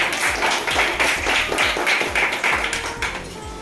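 Loud, rhythmic clapping from an audience honouring Geeta madam at a basic training gathering in Virar, with steady, evenly spaced claps and low thumps carrying through the full stretch.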